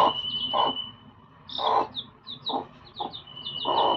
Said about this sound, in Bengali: 10টা ছানা দিয়েছে, 10টা মুরগির ছানা দিয়েছে